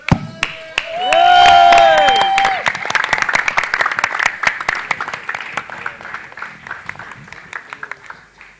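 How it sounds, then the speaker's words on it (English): A live crowd at a Bollywood song event gives loud, sustained applause for the choreographer, with a voice over a microphone speaking at the start and the clapping continuing steadily throughout. "Now, huge round of applause"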